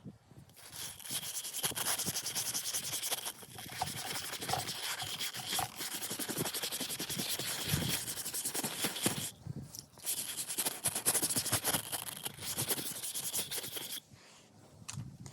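A brush scrubs hard and steadily across the flat rubber sole of a Red Wing engineer boot during a resole, a continuous close rasping with a few brief pauses and a quieter tail at the end.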